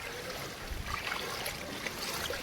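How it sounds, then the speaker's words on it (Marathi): Strong rainwater runoff floods a road in Palghar, standing two to two and a half feet deep and pouring through a residential area. It makes a steady, close rushing and gurgling wash that runs continuously, with no voices. "आणि हा इथे पाण्याचा प्रवाह जोरात आहे."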